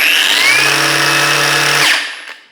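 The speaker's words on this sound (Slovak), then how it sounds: "Môžeš vidieť, brúska má veľmi rýchly štart do maximálnych otáčok" A Parkside PWSAP 20-Li G7 cordless angle grinder switches on and spins up at once to full speed, a loud steady whine with a low motor hum that then winds down quickly as the brake stops it.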